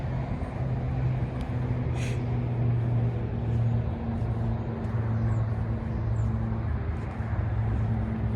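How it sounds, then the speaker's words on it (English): A black GMC Sierra 1500 AT4 pickup with a 6.2 liter V8 and dual exhaust runs steadily nearby, a continuous low engine rumble with a faint brief hiss partway through. "It's that dual exhaust."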